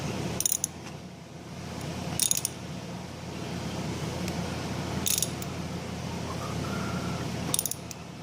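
A ratchet clicks in short bursts, about four separate spells, while tightening during an oil change on a 2007 Chevrolet Cobalt LT, over steady background noise with no talking.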